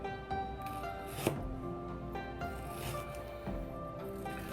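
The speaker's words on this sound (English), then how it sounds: "We cut the ginger, get the bad part of the ginger away" A knife cuts fresh ginger on a cutting board with a few sparse, crisp strikes spaced about a second apart, close and clear over a quiet kitchen background.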